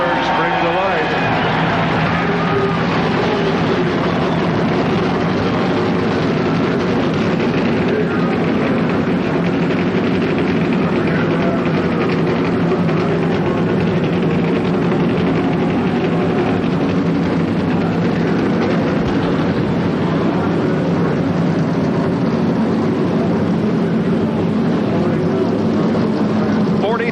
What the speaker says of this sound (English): 23 cars have roared to life here in Indianapolis.